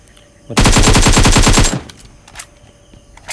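Automatic gunfire from the video game PUBG Mobile (BGMI): one rapid burst of about a dozen loud, evenly spaced shots lasting just over a second, followed by faint game noise.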